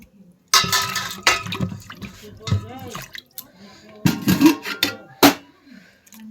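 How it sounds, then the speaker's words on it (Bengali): Half a kilo of rice and five potatoes are washed in water in a metal pot, with sloshing, dripping and clinks against the pot arriving in uneven bursts while a voice speaks in between. "তো হাফ কেজি চাল ধুয়ে দিলাম আর 5টা আলু"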